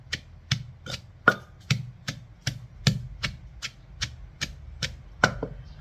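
Tamarind pulp is pounded in a mortar, about a dozen firm, thudding strikes landing at a steady pace of roughly two per second, each with a short, sharp attack, close and clear without speech.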